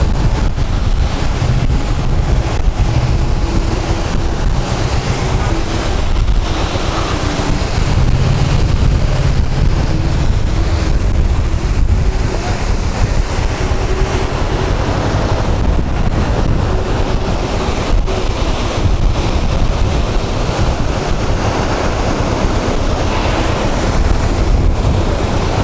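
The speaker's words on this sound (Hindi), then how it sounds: "ये कौन सा वाटरफॉल है भाई?" A waterfall roars in a continuous, dense rush of water, loud and unbroken, with wind buffeting the microphone throughout.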